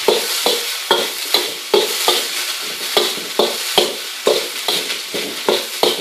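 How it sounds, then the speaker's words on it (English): Garlic fries in a pan for fried rice and is stirred steadily, with repeated scraping strokes of the utensil roughly every half second over a constant close sizzle, with no voices. "and give it a bit of a stir. Just to introduce the garlic flavour at this point."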